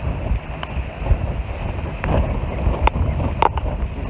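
Strong gusty wind buffets the microphone outdoors beside an abandoned building in Mostar, a loud continuous low rumble with uneven surges and a few faint knocks, with no talking.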